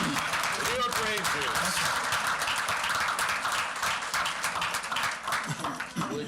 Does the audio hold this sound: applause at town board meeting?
yes